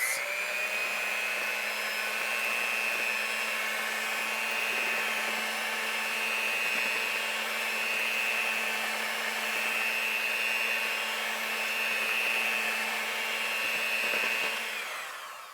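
An electric hand mixer whirs continuously through yellow cake batter from a Betty Crocker two-layer mix, a loud, steady motor hum that holds for the whole stretch and cuts off at the end.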